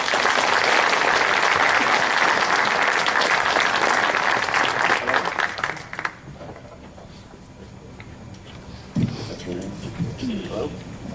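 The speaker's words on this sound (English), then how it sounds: "please give a big round of applause and South Texas welcome to Mr. Ben Moss and" Audience at a UFO conference applauding loudly for about six seconds before the clapping dies away, followed by quieter room noise, a thump and talk.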